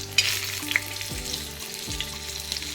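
Stuffed green chillies fry in a pan with a constant close sizzle, while a few low scrapes and knocks mark them being turned over. No one speaks.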